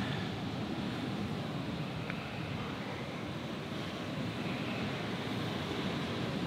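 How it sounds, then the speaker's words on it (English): Ocean waves surge and wash up onto a rocky shore along a coastline, a steady, loud roar of broken water with wind noise buffeting the microphone and no voices. "Just gonna have to time this right because these waves keep coming up"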